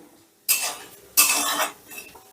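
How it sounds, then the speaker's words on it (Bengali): A metal spatula scrapes and stirs tempering spices, including cumin, in a pan over low heat in three short, bright bursts separated by quiet gaps, close and fairly loud. "এবারে গ্যাসের আঁচটা লোতে রেখে ফোড়নটা আমি একটু নাড়াচাড়া করে নেব"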